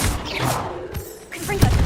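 Spell blasts from the Confringo fire spell in the Hogwarts Legacy video game, a burst of crackling impacts with a heavy thump near the end, mixed with game effects and a voice calling out.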